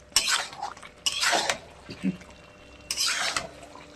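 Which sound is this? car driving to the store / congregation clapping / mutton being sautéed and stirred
mutton being sautéed and stirred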